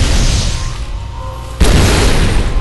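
A loud, sudden boom bursts out in Ori and the Blind Forest, with a thick low rumble that slams in midway over an already dense, heavy game soundscape and holds at full strength.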